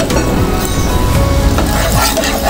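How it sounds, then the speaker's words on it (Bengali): Spices with Kashmiri chilli and turmeric powder sauté for a Bengali doi potol dish, a close sizzle under scraping stirs and light clinks of a spoon against the pan. "এবার এটাকে ভালো করে আমি একটু কষিয়ে নেব।"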